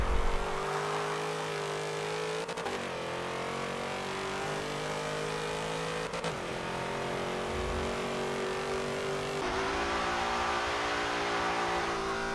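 Aston Martin Vantage race car engine at Road America in Forza 7, a loud sustained high drone with rising pitch through each gear and sharp drops at gear shifts, alone without talk.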